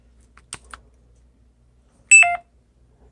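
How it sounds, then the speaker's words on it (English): Old mobile phone giving a short electronic low battery warning of a couple of clipped beeps, close and clear after faint clicks, in near silence. "Oh, low battery."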